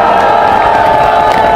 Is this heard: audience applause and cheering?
yes